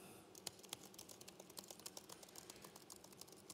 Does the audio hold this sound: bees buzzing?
no